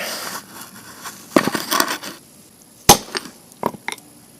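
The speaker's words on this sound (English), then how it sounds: "I believe that is the sound of a seated bearing." Metallic hammer blows strike at irregular intervals as a front wheel bearing is driven into its seat on a VW Cabrio Mk3.5, with a cluster of dull knocks followed by a few sharp, ringing hits near and fairly loud.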